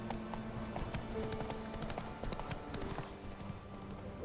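Horse hooves gallop in a steady, rapid clip-clop rhythm in The Witcher 3, with game ambience and music beneath, loud and continuous throughout.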